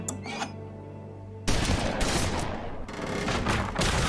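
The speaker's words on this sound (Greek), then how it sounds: "Τα κανόνια της φωτιάς." Fire cannons blast away in an animated cartoon battle, a quiet lead-in giving way to a loud rolling barrage of rapid booming shots that continues without a break.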